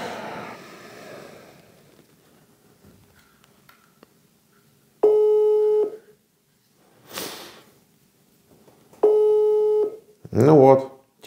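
Telephone call tones as a number rings through: a burst of dial and beep tones, then two long repeated ringback tones separated by a noisy rustle, ending in a brief chirp, with faint room sound between.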